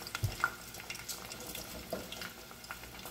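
Sweet potato cubes fry in hot oil in a pan, giving a soft, steady sizzle with scattered crackles and light stirring clatter, fairly quiet and close.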